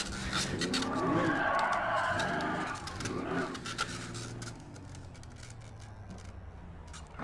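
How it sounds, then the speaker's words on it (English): Simulated car in a racing sim game spinning through donuts around a cone, loud rising and falling engine tone with sweeping tire skid, strongest early then easing to a steadier, quieter drone. "I'm going to push that cone out and we're going to do some donuts"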